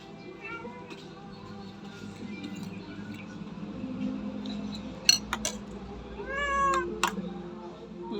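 A cat meows a couple of times near the end over soft room noise, with a light clink of cutlery.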